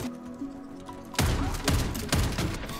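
Garibaldi rifle shots in the online shooter Warface, with a couple of loud, punchy gunshot bursts and booming impacts over in-game background sound, the first arriving about a second in.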